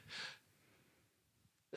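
A single short, sharp sneeze bursts out at the start, followed by quiet breathing and a faint intake at the end.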